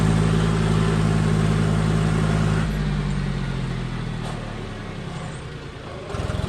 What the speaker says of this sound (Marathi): तर मित्रांनो अशा प्रकारे एक एक ट्रॅक्टर उतरावं लागतं आपल्याला.